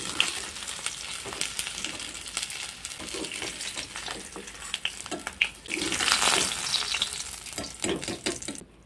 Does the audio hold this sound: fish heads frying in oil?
yes